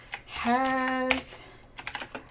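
Fingers tapping on a computer keyboard, with a few quick clicks at the start and a short flurry of keystrokes at the end, separated by a drawn-out hummed vocal tone.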